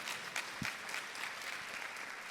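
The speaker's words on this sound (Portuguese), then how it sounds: "Come on, give Jesus a round of applause." An audience in a church applauds, a faint, distant patter of many hands that keeps up steadily for the whole stretch.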